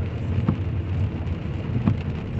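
Rain falls on a rainy day in Divinópolis, Brazil, a steady, dense hiss of drops with a couple of faint thuds, moderately loud and with no talking.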